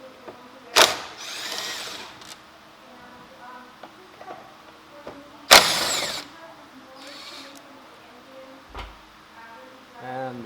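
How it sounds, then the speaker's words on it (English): Power tool driving out headlamp mounting bolts on a 2016 Volkswagen Jetta, with two short loud bursts of the tool separated by quieter handling and clicking of parts. "let's go on ahead and start removing the bolts we need to take out."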